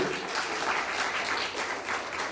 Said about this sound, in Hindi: बोलो यीशु मसीह के एक बार बहुत जोरदार ताली अपने परमेश्वर के लिए बजाओगे।